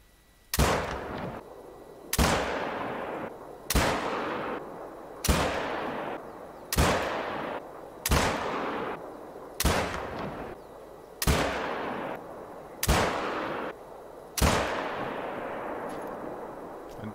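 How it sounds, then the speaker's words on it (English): Ten evenly spaced shots from a Mårtensson 6.5mm rifle on a 50-meter range in theHunter: Call of the Wild, each a sharp loud crack with a decaying tail, about one and a half seconds apart. "That is 10 shots from 50 meters."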